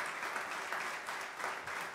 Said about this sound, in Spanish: aplauso para Andrés